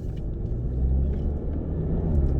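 Low, steady engine rumble of a 2021 Audi TT Mk3 Roadster cruising along, with constant road noise and no voices.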